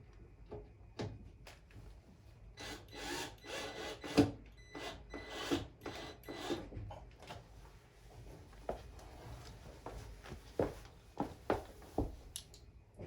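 Screws go in by hand while an under-desk locking drawer with shelf is installed: faint, irregular scraping and ratcheting bursts mixed with light knocks and rustling, close and quiet, with no talk.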